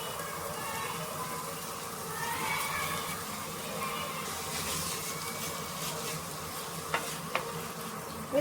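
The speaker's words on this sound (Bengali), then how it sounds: "চিকেনটা ভালো করে একটু ভাজা ভাজা করে নেব।" Chicken pieces frying in a pan after onion, garlic and ginger, a constant close sizzle with a couple of sharp clicks near the end and no voices.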